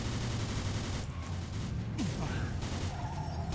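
Gunfire in the Mafia 2 video game, a dense stretch of shots and mechanical clatter running continuously and loud throughout, with game sounds layered over it and a voice briefly heard.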